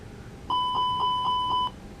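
Repeating electronic warning chime in an Airbus cockpit during an engine 1 fire test in the ToLiSs flight simulator: six evenly spaced bright tones in steady rhythm, loud and close, with no talk over it.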